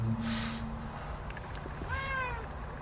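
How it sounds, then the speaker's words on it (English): A cat gives a short meow, then a longer rising-falling meow a moment later, close by over faint background noise. "That's my cat."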